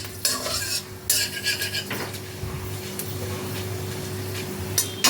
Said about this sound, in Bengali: তেজপাতা শুকনো লঙ্কা ফোড়নটাকে কয়েক সেকেন্ড নাড়াচাড়া করে নিলাম